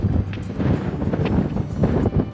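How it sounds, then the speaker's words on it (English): Gusty wind at a cliff-edge overlook in Colorado National Monument buffets the microphone with low rumbling blasts that rise and fall in quick surges. "it's the wind, the gusts"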